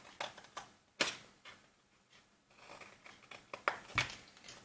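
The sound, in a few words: scissors cutting paper triangles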